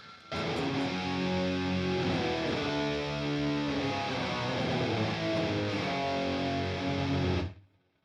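Distorted electric guitar played through a Boss Katana amp on a patch with a vintage cab setting, a dry, loud sustained riff of chords and notes ringing steadily for about seven seconds before cutting off.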